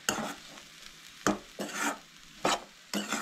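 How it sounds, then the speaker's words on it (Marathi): A spoon stirs a vegetable cutlet mixture seasoned with spices and fresh coriander in about five distinct scraping, squelching strokes, close up and with no voices. "आतां हे सगळ्यांनी मिक्स करून घेवंक जाय"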